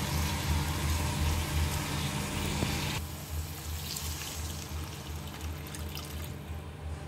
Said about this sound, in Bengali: তো আমার এদিকে এই যে গরম জল হয়ে গেছে, তো আমি এবার জলটা দিয়ে দেবো।